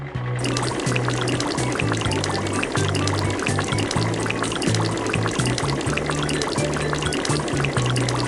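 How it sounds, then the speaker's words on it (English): Water pours steadily over a soapy toy bus to rinse off the bubbles, a continuous close splashing stream that runs the whole time over soft background music. "It's time to rinse off the bus."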